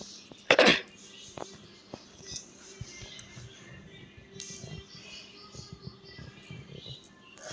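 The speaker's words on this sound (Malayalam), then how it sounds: "എനിക്കിത്തിരി ചുമയുണ്ട്" A person coughs once, sharp and close, near the start, followed by quieter throat sounds and faint background noise from a Free Fire game session, with some talk.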